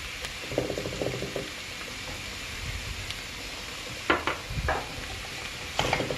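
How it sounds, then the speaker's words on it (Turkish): Unsalted lor cheese with salt added is stirred in a bowl. A spoon scrapes and clicks in short, close bursts with brief pauses, over a soft background hiss and no talk. "Şu şekilde karıştırıyorum."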